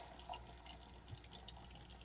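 Hot water poured slowly from a pan into a colander at a kitchen sink while making shepherd's pie, a faint, steady watery trickle that continues throughout.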